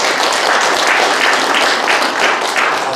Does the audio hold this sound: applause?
yes